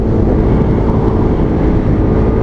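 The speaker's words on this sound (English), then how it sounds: "Wow, look at all this traffic going the opposite direction" Dense road traffic streams past in the opposite direction, a steady, loud, unbroken rumble of tyres and engines heard from within a moving vehicle.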